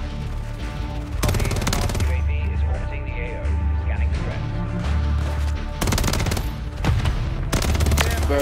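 Bursts of rapid submachine gun fire from the buffed WSP Swarm in the shooter Call of Duty: Modern Warfare III, loud, close automatic volleys separated by short pauses over game music and background noise.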